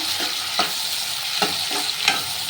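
Masala with dry coconut and peanuts fries in a pan for sherva: a steady, close sizzle with three or four distinct scraping strokes of a spoon stirring through the mixture, and no voices.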